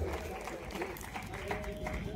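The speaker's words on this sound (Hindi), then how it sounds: "गुरुदत्त दादा के लिए जोरदार तालियां हो जाए" Audience applause for actors in a stage play about Birsa Munda, crowd clapping blended with a loud voice talking over it and a dense, boomy hall background.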